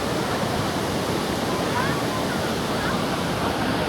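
Thác Hòa Bình waterfall in Đồng Nai, Vietnam, a loud, constant broadband roar of falling water, close and steady with no break, filling the whole scene.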